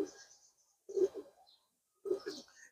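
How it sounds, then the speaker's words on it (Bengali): A male three-feather pigeon coos up close in three low, throaty bursts separated by brief pauses, each phrase rolling and slightly bubbling, alone in a quiet setting. "এটা আমার একটা 3 ফেদারের মেল কবুতর"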